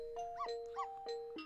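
Dog barking in the video game Ghost Trick, a few short synthesized yaps in an even rhythm over a sustained musical tone, clear and moderately loud.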